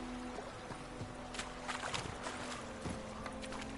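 Roach the horse from The Witcher 3 gallops in a game world, a steady run of clip-clopping hoofbeats at moderate distance over a constant ambient bed, with no talk.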